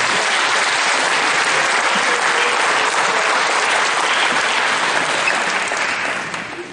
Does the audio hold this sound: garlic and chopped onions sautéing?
no